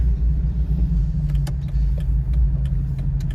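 A V8 engine in a 2003 Jeep Wrangler Rubicon rumbles low and steady from inside the cabin while driving, with faint rattles and jingles ticking over the drone.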